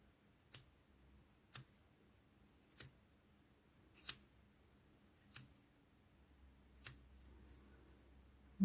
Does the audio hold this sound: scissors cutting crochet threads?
yes